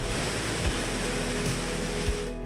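Continuous rushing water from Kuthumkal waterfall, swollen after heavy rain, roars steadily, a dense, even wash of noise with no pauses.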